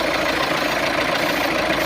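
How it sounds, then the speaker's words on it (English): Vacuum drawing at the turbo switching valve feed line of a running VW Amarok with a P22D500 low-boost fault. It makes a steady, close, broadband hiss over the idling engine's hum, unbroken throughout. "You can hear the vacuum there"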